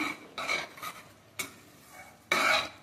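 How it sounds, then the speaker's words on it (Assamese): Raw mango sweet pickle ingredients, with mustard oil and fenugreek, stirred together in a bowl, heard as a few short scraping bursts of utensil against the dish, the last one louder and longer. "এতিয়া গোটেইখিনি মই ভালদৰে মিক্স কৰি ল'ম"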